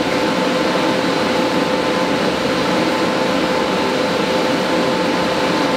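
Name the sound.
welding the middle seam of a trailer fender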